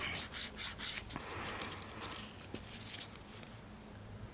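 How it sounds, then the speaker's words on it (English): A nail file rasps steadily against a fingernail's free edge in quick back-and-forth strokes, soft and close, with brief pauses between passes. "As you're filing, do a little bit, remove the dust, check, look down the barrel"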